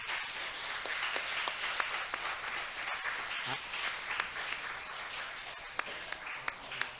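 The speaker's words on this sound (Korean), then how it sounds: "박수 한번 쳐주세요" A church congregation at a Sunday family service applauds as schoolchildren present gifts to elders, a quiet but continuous patter of many hands with sharper individual claps poking through.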